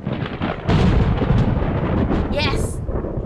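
Thunder rumbles loud and close in QUOD, a 1930s prison game, with a deep sustained roll swelling after a quieter start, while a sharp high ringing sound cuts in near the end.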